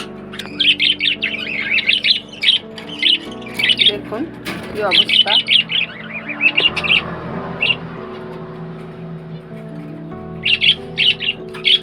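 Pet birds in a nesting aviary with eggs and chicks are fed. Bursts of shrill chirps and squawks repeat close by, between and over a person talking.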